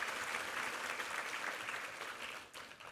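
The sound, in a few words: church congregation applauding chamber trio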